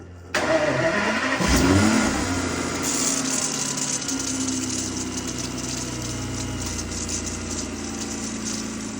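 An Aston Martin DB9 engine starts with a crank and catches, revs briefly, then settles into a steady, close idle.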